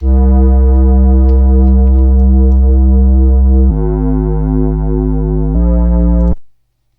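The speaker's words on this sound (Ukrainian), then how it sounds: "послухайте, як звучить ця партія цього басу прекрасно" A deep, buzzy synthesizer bass holds long sustained notes, shifting pitch twice before cutting off abruptly, loud and alone.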